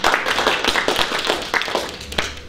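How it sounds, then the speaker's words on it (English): Small audience at a talk clapping in a brief, uneven round of applause, sharp close claps for a couple of seconds. "Let's give him a round of applause for being honest for that."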